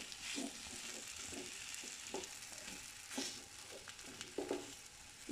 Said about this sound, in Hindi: और इसको मैं 2 से 3 मिनट के लिए बस इसमें हिलाते हुए फ्राई करूंगी